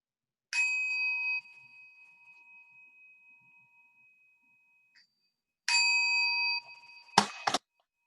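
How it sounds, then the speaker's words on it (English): A meditation bell is struck twice in a quiet setting, several seconds apart. Each strike rings out clearly and then fades slowly with a long, sustained hum. "Listening to two sounds of the bell."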